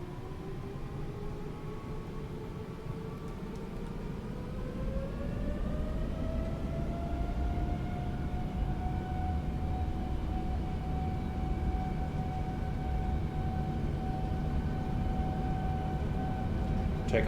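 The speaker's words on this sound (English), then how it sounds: "Takeoff thrust set, indications normal." Twin jet engines of a TUI Boeing 787-9 in a flight simulator spool up to takeoff thrust, a steady loud roar with a whine that climbs in pitch and then holds at a constant high level.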